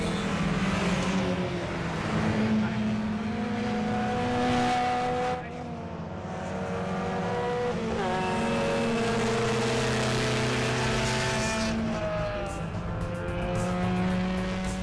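A diesel automatic Honda CR-V laps a racetrack, its engine droning steadily with rising and falling harmonic tones as it works through gears and corners, a brief dip near the middle, heard close and continuous.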